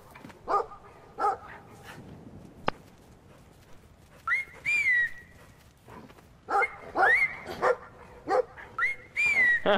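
A dog barks in the video game Brothers: A Tale of Two Sons, sharp separate barks in groups mixed with high whistling tones, alongside other game sounds.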